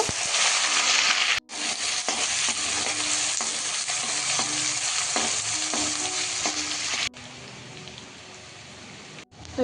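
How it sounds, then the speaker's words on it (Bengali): Onions for chicken biryani fry in hot oil, a loud, dense sizzle near at hand that runs almost continuously, breaking off briefly twice, with scraping stir strokes over it. "তেলটা গরম হ্যাঁ। হয়ে গেছে এখন পেঁয়াজগুলো ভেজে নিব"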